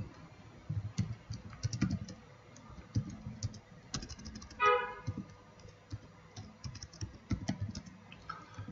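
Keys tapped on a computer keyboard while profile criteria are written out during a freelancing tutorial, quick irregular clicks in short bursts, close and fairly quiet over low background noise.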